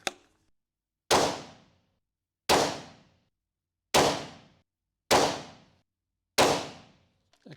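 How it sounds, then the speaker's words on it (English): CZ rifle in .17 HMR fired outdoors, five loud sharp gunshots spaced about a second apart, each with a quick decaying tail, followed by a faint metallic click at the end. "we're going to test the sound of each gun"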